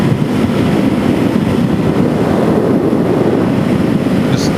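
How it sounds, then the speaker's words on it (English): Wind buffets a microphone during a ride on a DRZ 470 big bore stroker motorcycle, making a constant loud low roar that fills the whole stretch and has no talk over it. "That wind sucks."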